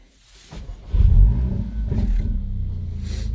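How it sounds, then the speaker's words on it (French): A Mercedes CLA 45 AMG starts up: a brief starter whir, then the engine catches with a loud burst of revs and settles into a deep, steady idle rumble close by. "Donc on va démarrer la voiture pour voir un peu ce que ça donne."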